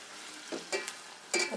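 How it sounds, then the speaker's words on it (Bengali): Onions sizzle in hot oil for a beef and mung dal curry, with soft crackling bursts and a few brief stirring scrapes close by, steady and fairly quiet with no talking. "এখন তেলটা গরম হয়ে গেছে, পেঁয়াজটা নরম হওয়া পর্যন্ত অপেক্ষা করবো"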